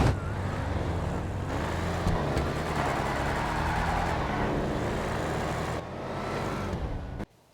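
Cars launching side by side in a GTA V street-outlaws style medium-tire drag race, a steady loud engine roar sustained for several seconds before cutting off abruptly at the end, no talking.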